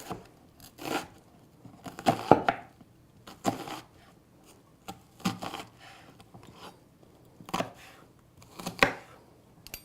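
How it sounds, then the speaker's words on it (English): A knife chops food on a cutting board in a kitchen, with about eight separate sharp, close chops spaced irregularly and quiet pauses between them. "Chop it up."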